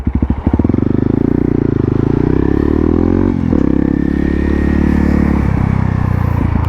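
A small motorbike rides off the road through a narrow gap and onto a dirt trail, its engine droning loud and close throughout with a brief dip in throttle midway.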